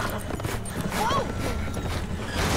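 Horse hooves clip-clop in a zombie video game as a horse is led indoors, a short run of steps under continuous background game sound and voices.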